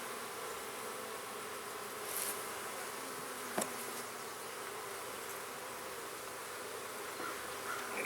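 Honeybees buzz steadily during a beehive inspection, a dense continuous hum from many bees close by, with a few faint clicks and no talk.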